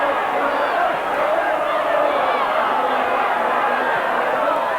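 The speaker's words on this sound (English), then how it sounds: "And the crowd now singing "Going Up Again."" A football crowd at a 1981/82 Bradford City versus Hull City match sings "Going Up Again", a broad, steady massed chant from the terraces that carries evenly throughout, with a commentator's voice faintly present.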